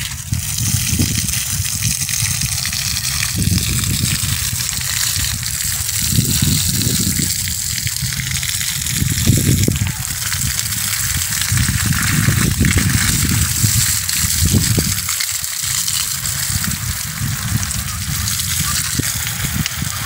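Water is poured onto vegetable plants growing in string bins in a garden, a steady gushing and splashing that lasts throughout with uneven surges and no talk.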